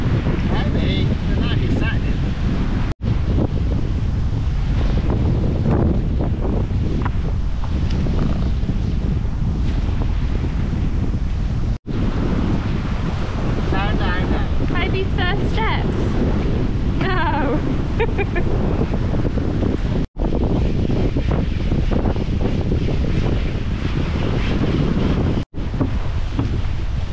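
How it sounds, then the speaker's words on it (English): Strong wind buffets an outdoor microphone near the Krka waterfalls, a loud, continuous roaring rumble with gusty surges, broken by a few brief dropouts, and faint voices underneath. "It's very windy."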